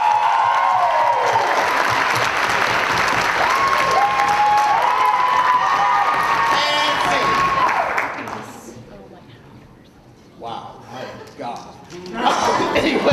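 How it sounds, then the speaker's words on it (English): Audience at a university poetry slam finals bursts into loud applause and cheering, with whoops and a rising shout. The ovation fades toward the end, leaving scattered noise and a few claps. "Let me get your best round of applause."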